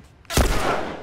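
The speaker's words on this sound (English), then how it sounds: "And then I'm gonna shoot you!" A single sharp gunshot from The Last of Us Remastered cracks out loud and close, followed by a short echoing tail.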